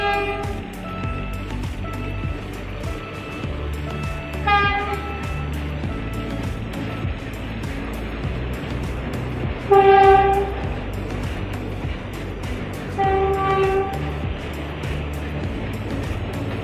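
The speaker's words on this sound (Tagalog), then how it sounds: "Ayan yung dumadaan yung PNR." A Philippine National Railways (PNR) train rolls past under steady traffic rumble and sounds its horn in three separate blasts. The first is short, then come two longer, louder blasts near the middle and end.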